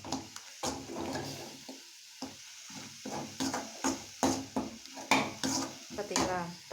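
Goat head curry ingredients are stirred and scraped in a pan, with repeated clanks of a spoon against the metal and a faint sizzle between strokes, close and fairly quiet.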